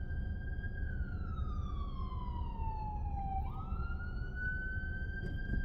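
An ambulance siren wails steadily over constant downtown traffic rumble, its pitch sliding slowly downward before jumping back up, fairly distant and continuous.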